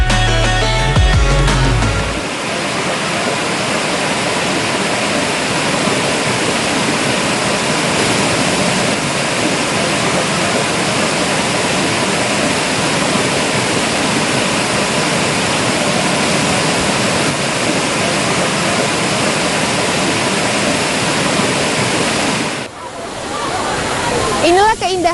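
Waterfall at Talang Tirta Asri in Merangin, set among a flower garden and rice fields, roars as a loud, constant wash of falling water throughout, with a brief disturbance near the start and another near the end.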